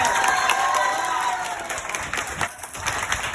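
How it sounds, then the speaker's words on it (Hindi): A classroom of students giving a burst of loud applause, dense clapping mixed with some cheering and children's shouts that slowly fade over a few seconds. "तो फिर से एक बार जोरदार ताली हो जाए।"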